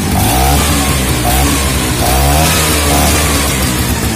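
A Vespa PX scooter engine starts and runs at once, a loud, steady, buzzing two-stroke drone that carries throughout with slight revving swells and no talk.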